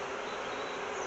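A dense, steady swarm of honey bees buzzes loudly around an open hive with queen cells, a continuous close-up drone with no pauses and no voices.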